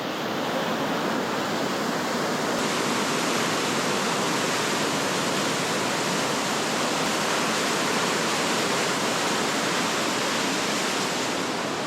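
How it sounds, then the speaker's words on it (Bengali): A flooded river rushes in a loud, continuous roar of water that stays steady and broadband from start to finish, with no voices. "তো দেখেন নদী একদম ভরাট হয়ে গেছে"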